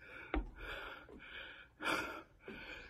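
Heavy, rhythmic panting from someone climbing the mountain path at Wat Phu Tok in Bueng Kan, with several quiet, close breaths in and out and a sharp gasp near the start.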